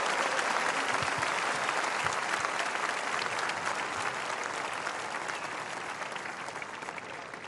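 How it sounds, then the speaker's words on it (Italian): Large crowd at a Rome gathering of a Catholic community claps loudly and steadily, the dense applause holding throughout and easing slightly toward the end. "Diamo un applauso a Carmen che sta contenta dal cielo"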